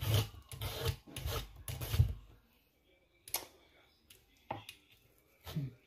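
A knife scraping the spines off a prickly chayote squash, giving rough rasping strokes in short bursts that grow sparser and quieter, with speech over parts of it.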